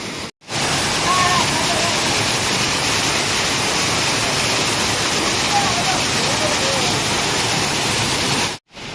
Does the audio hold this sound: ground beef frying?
no